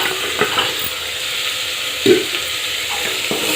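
Potato pieces frying in a spiced masala in a pan, a steady close sizzle with occasional stirring scrapes and clinks, no voices over it.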